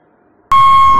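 Blowing near a sink drain pipe produces a sudden, loud, sustained buzzing tone that starts after half a second of near silence and holds steady to the end.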